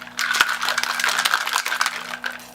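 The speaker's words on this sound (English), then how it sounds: "Oh man, shaking Sprite," Sprite rattles and sloshes inside a cocktail shaker, a busy stream of clicks and knocks running steadily for a couple of seconds before tapering off.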